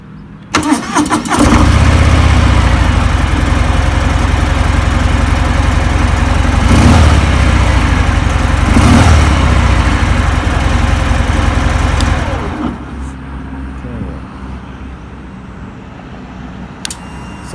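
Harley-Davidson Sport Glide 2020 motorcycle engine cranks and catches, then holds a loud, steady idle for about ten seconds with a couple of brief revs before being shut off, leaving quiet room tone.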